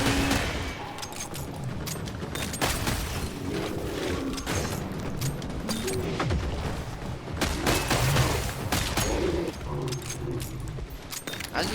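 Pistol gunfire in the video game Killing Floor 3 rattles out in quick, repeated shots over busy game effects and mechanical clatter, with a voice speaking at times.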